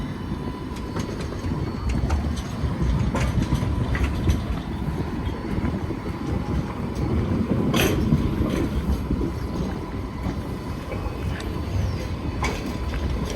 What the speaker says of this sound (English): it's just pulling into the siding track just here where they can turn around the tram.